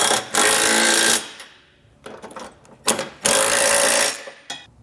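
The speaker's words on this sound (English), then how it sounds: "come back with a 19mm or 3/4 inch socket and snug it all down." A tool with a 19mm socket drives trailer hitch bolts on a 2022 Ford Edge, sounding as loud, close bursts of rapid buzzing rattle separated by short quiet gaps.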